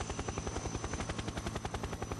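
Helicopter in the Metal Gear Solid 3 video game, a loud, steady rotor chop with rapid rhythmic thumping pulses throughout, close and continuous, with no talking.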